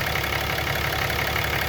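A Ram 3500 pickup's engine idles while warming up toward operating temperature, a steady, loud, low mechanical rumble with an even pulsing beat and no break.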